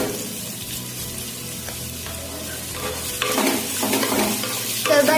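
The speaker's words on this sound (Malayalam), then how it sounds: "ഇനി അതിലേക്ക് സവാള ചേർത്ത് കൊടുക്കാം. ഇളക്കി കൊടുക്കാം." Sliced onions sauté and sizzle in a pan for chicken majboos while being stirred, a soft, steady frying hiss broken by scraping stir strokes that grow busier toward the end, with no voices.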